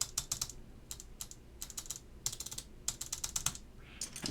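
Keycaps, including stabilized ones, are pressed onto a mechanical keyboard with Alps SKCM White switches, giving bursts of light plasticky clicks and taps in uneven clusters over quiet room hiss, faint and close.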